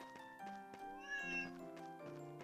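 Cats meow in the video game Ys IX: Monstrum Nox, a run of clear, close, high-pitched mews repeating over about two seconds with no talking.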